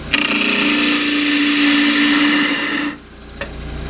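A wood lathe spins a small natural edge bowl while a 3/8 bowl gouge roughs out the inside, a loud steady whine with cutting hiss that drops away near the end, followed by a brief tap.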